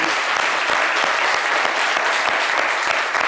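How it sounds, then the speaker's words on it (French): Studio audience applause on a French-language midday television program, a dense, even wash of clapping that stays loud and steady throughout with no voices breaking through. "bienvenue avec les applaudissements de notre chère"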